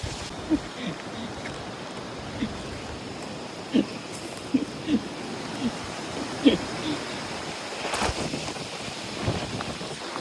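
Wind blowing outdoors in Nasushiobara, Japan, a steady broad rushing that swells toward the end, with a few faint soft knocks scattered through it.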